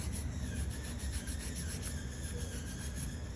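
A hand file works the tip of an acrylic nail in quick, steady back-and-forth strokes, a continuous close, raspy scratching with an even rhythm and no speech.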